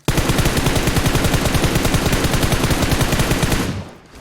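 Sustained automatic gunfire from a battle royale shooter, a loud, continuous rapid burst of shots at a steady rhythm lasting about three and a half seconds before cutting off, with no talking.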